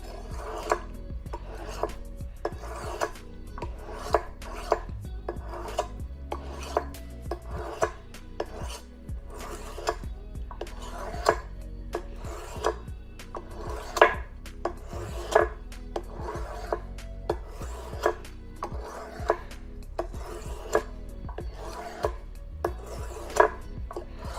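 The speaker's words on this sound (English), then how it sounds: "So I'm sharpening this tip." A cheap dollar-store knife is drawn across a whetstone in repeated rasping strokes, a steady rhythm of scrapes about once a second, close and clear with no voices.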